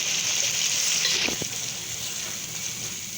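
Egg and chickpea curry masala frying in a pan, a dense continuous sizzle with a brief scrape and clatter of a spoon stirring partway through, close and moderately loud.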